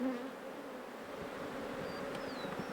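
Wild bees and wasps buzz steadily in a forest setting, a continuous close droning hum with a few brief higher whines of insects passing near.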